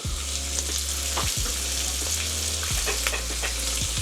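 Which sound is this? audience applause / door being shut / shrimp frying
shrimp frying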